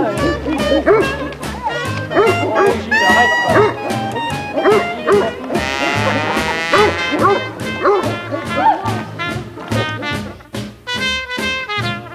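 People dressed as dogs imitate them with rapid, playful barking and yipping sounds, several voices overlapping in a lively, loud burst.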